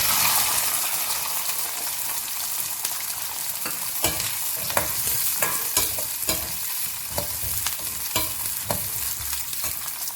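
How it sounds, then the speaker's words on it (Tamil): Onions, with green chillies nearby, are sautéed in oil for an onion tamarind curry, with a steady close sizzle under repeated scraping and tapping of a spoon against the pan, no voices. "இப்போது வெங்காயத்தை நம்ம அப்படியே உள்ளே ட்ரான்ஸ்ஃபர் பண்ணிவிட்டு நல்லா எண்ணெயிலேயே வதக்கலாம்."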